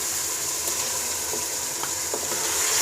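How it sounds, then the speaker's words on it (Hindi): Peas added to fried chicken in a pan, a steady close sizzle of frying with a few soft stirring scrapes, continuous and fairly loud throughout. "चिकन फ्राई हो चुकी है, अब हमने इसमें मटर ऐड कर देने हैं।"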